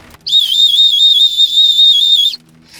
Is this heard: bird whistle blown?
yes